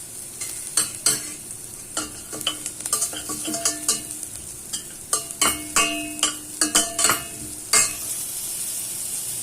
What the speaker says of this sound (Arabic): هقلب حبه كده كمان